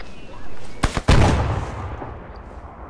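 A grenade goes off in Arma 3: two sharp cracks, then a heavy, loud blast whose rumble trails away over the next second or two. Faint background noise remains.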